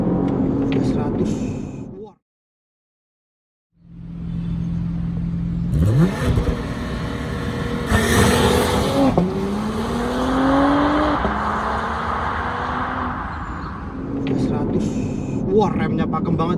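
Porsche Panamera 4 E-Hybrid 2023 in Sport Plus launching at full throttle, a loud engine roar climbing through rising gear sweeps with shifts, after a brief dropout, while occupants talk over it.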